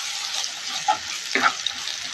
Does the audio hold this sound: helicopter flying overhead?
no